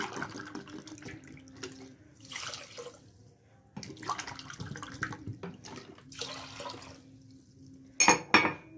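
Two cups of water pour and splash into a pot over sugar for syrup in several bursts with short pauses, ending with a clink of glass or metal.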